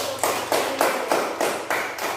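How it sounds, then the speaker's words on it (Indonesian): A group of children in a classroom claps in unison, about eight evenly spaced claps in a steady rhythm, fairly loud and close. "tepuk tangan dulu."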